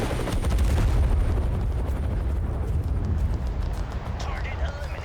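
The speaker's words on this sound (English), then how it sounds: "Comes an airstrike." In a military video game, an airstrike lands with heavy booming blasts mixed with rattling gunfire, loud at first and then thinning into scattered cracks, with a voice talking over it.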